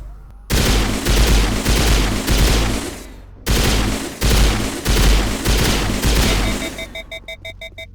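Pistol gunfire rings out in the Mass Effect video game as loud, close bursts of rapid shots. The bursts are split by short pauses, and the shooting gives way to a stuttering, electronic tail at the end.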